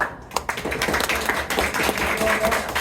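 Taphouse crowd clapping and cheering to vote for a contestant at a live comedy show, scattered claps over a busy murmur of voices and whoops throughout.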